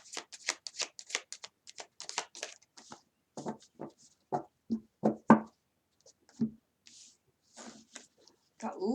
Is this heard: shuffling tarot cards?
yes